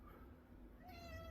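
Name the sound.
cat meowing, noisy whiny kitty named Winky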